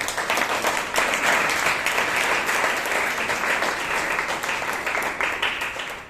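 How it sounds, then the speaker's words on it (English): A room full of people at a Toastmasters meeting in Bangalore applauding, dense and even clapping that holds steady at full strength for several seconds. "we need to give a round of applause, another round of applause"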